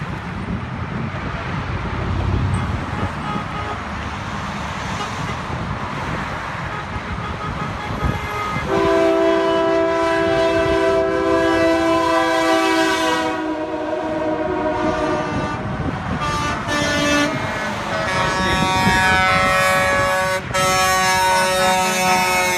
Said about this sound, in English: Set of train horns there.